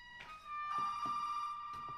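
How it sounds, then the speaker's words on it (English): A telephone rings inside a house in the survival horror game Resident Evil 7, a bright electronic trill that swells loud and repeats in bursts, with no talk over it. "I don't know if it rings every time you leave the save room."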